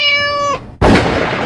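A cat gives a single loud, clear meow that cuts off abruptly, followed after a brief gap by a sudden hard thump and noisy burst.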